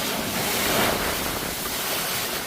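Ocean surf washing onto a secluded beach at Sandals Grenada near rocky cliffs, a steady close rush of waves mixed with wind buffeting the microphone.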